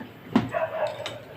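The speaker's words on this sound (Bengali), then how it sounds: "কি কুকুর ডাকছে" A single short dog bark, moderately close, followed by faint background noise and a brief murmur.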